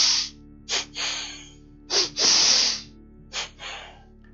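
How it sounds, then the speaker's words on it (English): Martial-arts breathing drill of double inhalation and double exhalation: paired sharp breaths through the nose and mouth, short then longer, repeated in three clear doubled sets, close and alone with no talking. "The second technique that we're going to need to know is the double inhalation and double exhalation."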